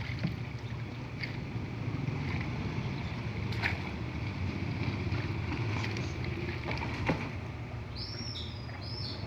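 Small boat moving along a river while water lilies and plastic are cleared from the water, with steady broadband water and motor noise throughout and birds chirping faintly in the background.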